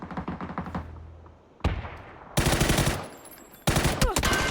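Gunfire in the battle royale game PUBG, a string of rapid shots, then a single crack, followed by two loud close bursts of automatic fire that fade between volleys.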